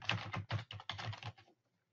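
Typing a password on a computer keyboard: a quick, close run of clicking keystrokes for about a second and a half, then silence.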